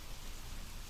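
A steady, faint hiss of rain falling, used as a sound effect in an audiobook reading of a Lovecraft tale, forms an even wash of noise with no distinct drops or other sounds.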